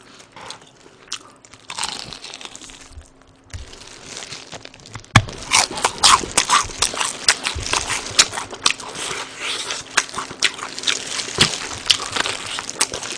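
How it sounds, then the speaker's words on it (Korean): Loud close crunching and chewing of crispy rice-battered fried chicken, with repeated sharp bites and crackly mastication that grow denser partway through, with no talking. "이 프라이드의 이 바삭함."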